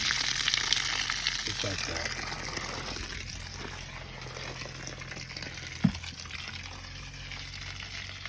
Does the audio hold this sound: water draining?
yes